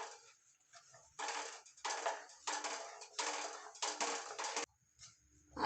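Gram flour for Mysore pak is stirred in a pan off the heat, bursts of metal-on-pan scraping and clinking coming in rhythmic strokes with short quiet gaps between, close and fairly soft.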